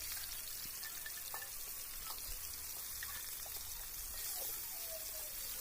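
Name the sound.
fish frying in hot mustard oil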